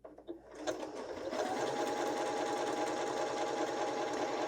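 A Janome 6700P sewing machine stitches a decorative leaf pattern, starting after a brief pause and then running with a steady motor hum and rapid needle rhythm, fairly quiet and close.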